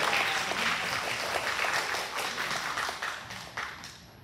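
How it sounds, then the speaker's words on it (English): An audience at a mayor's talk about Logan, Queensland claps for a quiz winner, a steady wash of applause that gradually fades over a few seconds. "Give her a round of applause."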